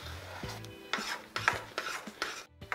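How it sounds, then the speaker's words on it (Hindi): Ladle stirring besan mixed with sugar syrup for halwai-style besan barfi, giving repeated scraping, rasping strokes against the pan in an uneven rhythm, close and fairly loud over a low steady hum. "एक करछी की सहायता से इस तरीके से बेसन को हम हिलाते रहेंगे"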